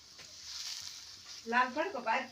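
Puran poli frying in oil on a pan, a steady soft sizzle at close range for the first half, then voices talking over it.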